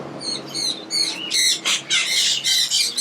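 Parrots at a parrot sanctuary in St. Martin squawk in a rapid series of harsh, loud calls, close by and with no voices.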